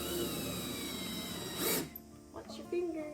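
A power drill with a star bit drives a screw into wood, whirring steadily for under two seconds, then stops, followed by a few quiet mechanical clicks and some brief murmuring.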